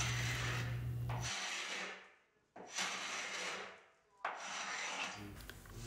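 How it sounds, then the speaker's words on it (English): Carbide scraper dragged against the grain across a painted Art Deco wooden dresser, three long rasping strokes separated by short pauses, close and loud. "I was scraping against the grain to get this paint off"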